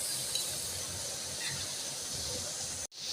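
Onions dropped into a pan of frying garlic give a steady, broad hiss of sizzling oil that holds for about three seconds, then cuts out abruptly.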